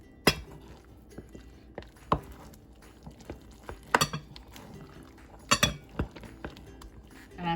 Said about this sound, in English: And mix it up.